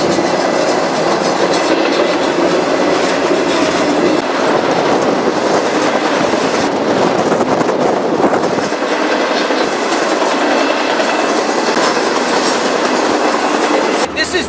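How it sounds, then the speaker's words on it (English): A Tropicana orange juice freight train heading north rumbles past close by, loud and continuous, with rhythmic clickety-clack of wheels over rail joints and a faint squeal of wheels, steady for the whole stretch. "I've heard about this train and here it is. Tropicana, it's going north, full of orange juice."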